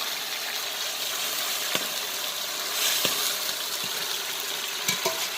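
Minced garlic frying gently in a cup of oil, giving a soft, steady sizzle with a few faint clicks and light utensil taps, and no talking.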